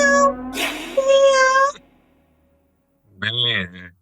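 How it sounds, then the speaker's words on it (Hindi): A cat meows twice up close: a drawn-out, rising call, then a short pause of silence before a second, briefer meow. "बिल्ली है।"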